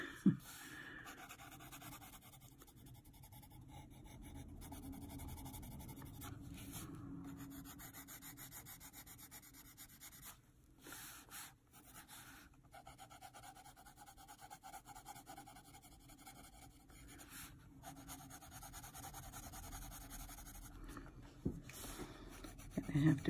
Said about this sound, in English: probably put music over this so you don't have to listen, just the pencil.